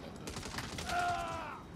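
Gunfire in the Saints Row video game tutorial, a short ragged burst of shots over a steady game background, moderately loud and without talk.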